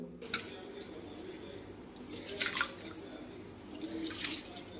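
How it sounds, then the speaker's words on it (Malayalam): Two cups of raw rice (pachari) being washed by hand in water, with soft watery swishes and splashes rising in three brief surges over a quiet background, close and fairly faint. "രണ്ട് കപ്പ് പച്ചരിയാണ് എടുക്കുന്നത് അതൊന്ന് നന്നായിട്ട് കഴുകി കുതിർത്താൻ വയ്ക്കാം നമുക്ക്"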